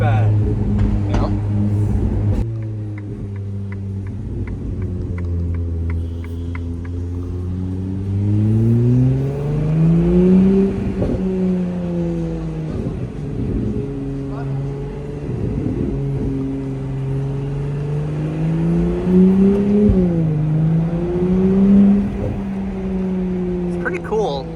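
A car drives around the Monaco F1 circuit, its engine humming steadily and rising and falling in pitch as it speeds up and eases off, with people talking over it throughout.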